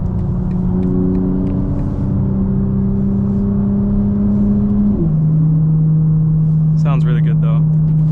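Steady engine drone from a 900 hp 2025 BMW M4 Competition while driving, loud and close, with a smooth drop in pitch midway as it shifts and eases off, then a lower sustained hum.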